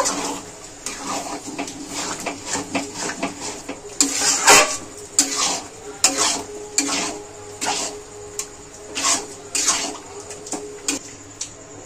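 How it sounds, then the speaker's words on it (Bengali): Boiled tarka lentils being stirred into masala in a cooking pot, wet slapping and scraping strokes repeating irregularly over a bubbling background, close and fairly loud, no speech. "এবার আগে থেকে যে আমি তড়কাটা সেদ্ধ করে রেখেছিলাম সেটা ঢেলে দিলাম। ভালো করে নাড়িয়ে মিশিয়ে নেব"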